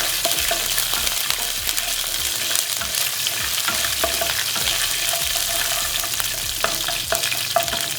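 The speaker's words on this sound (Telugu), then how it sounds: "కాస్తంత కరివేపాకు వేసి కరివేపాకును కూడా కాస్త మరమరలాడేటట్టుగా వేయించుకున్నాం" Curry leaves frying in hot oil for garlic chutney produce a loud, continuous crackling sizzle close up, with scattered pops and stirring scrapes and no talking.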